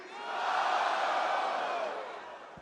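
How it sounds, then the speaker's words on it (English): A wrestling arena crowd at WWE Monday Night Raw chanting a long, drawn-out "no" in unison, a loud sustained roar of many voices that swells and slowly fades over a couple of seconds. "Crowd chanting no."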